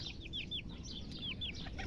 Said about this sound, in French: Voilà, donc ça doit être un coq